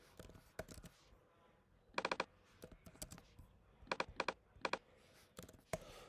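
Keys clatter on a computer keyboard in short irregular bursts of quick taps with pauses between, close and fairly quiet.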